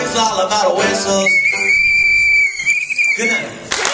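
A sustained shrill whistle tone held for over a second on a comedy stage during a live show, close and loud, with crowd noise and voices before and after it.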